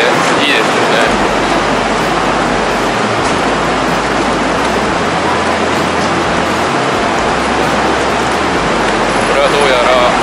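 An NJ Transit commuter train rumbles loudly and continuously on the line between Manhattan and Newark airport, a close, steady roar with a low drone, and voices faintly in the background.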